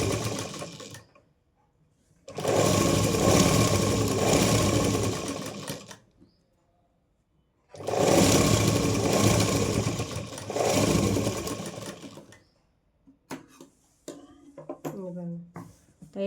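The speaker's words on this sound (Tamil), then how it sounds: "ஒரு 1 இன்ச்சு அளவில் நீங்கள் ஃபுல்லாக ஒரு தையல் போட்டுக்கோங்க" A sewing machine runs a long, large tailoring stitch through fabric in two sustained bursts of several seconds, separated by silence, followed by brief handling clicks and rustles.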